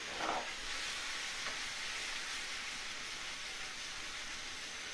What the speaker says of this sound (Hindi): करीब 1 मिनट हो चुके हैं मशरूम को भूनते हुए।